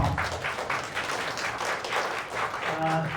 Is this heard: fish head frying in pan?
no